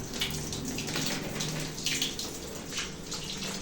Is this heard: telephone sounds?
no